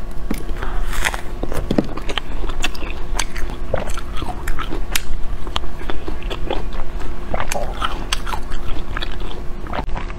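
Someone biting into and chewing a baby coconut up close, with repeated wet crunches and crackly snaps in an uneven rhythm, loud and continuous with no talk.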